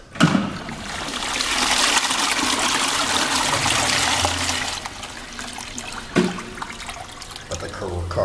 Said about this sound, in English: Your regular toilet won't be able to flush this.